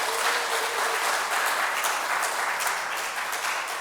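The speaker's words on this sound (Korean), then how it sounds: "나머지 아쉬움을 여러분들이 박수로 한번 다시 채워주시면 좋겠습니다" Steady, full applause from a congregation at a church service fills the whole stretch, a dense, even clapping that stays loud and close with no speech over it.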